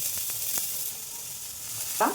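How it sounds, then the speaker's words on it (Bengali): Chopped cauliflower going into hot oil sets off a steady sizzle with a few light spoon taps, ending in a brief louder burst of spattering. "এই কুচানো ফুলকপিগুলো দিয়ে দিলাম"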